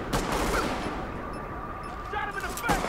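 Gunfire in the video game The Division: a short burst of loud, close shots at the start and another crack near the end, with lighter game ambience in between.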